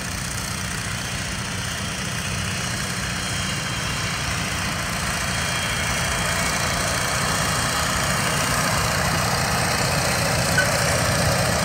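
A tractor pulling a roller drives steadily along, its engine a continuous loud rumble with a low, even drone that holds without a break for the whole stretch, and no voices.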